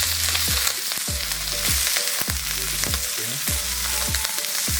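A steak fries in a pan with a loud, dense, continuous sizzle. Repeated low, rhythmic thuds run under it, close up, with no talk.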